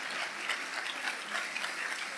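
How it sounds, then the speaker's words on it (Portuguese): A church congregation applauds warmly, a fairly faint, even roar of many hands clapping steadily with no talking over it. "Vamos aplaudir bem forte."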